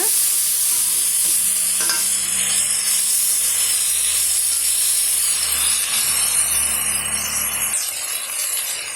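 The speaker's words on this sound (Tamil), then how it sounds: "ரெண்டு பெரிய சைஸு தக்காளி பழம் வந்து கட் பண்ணி வச்சுருக்கேன் சேர்த்துக்கலாம் சேர்த்துட்டு இதையுமே நல்லா வதக்கி விட்டுக்கலாங்க" Two large chopped tomatoes sautéing in a pan for a chana gravy give a loud, dense, continuous sizzle close up, with occasional scraping stirs and no talking.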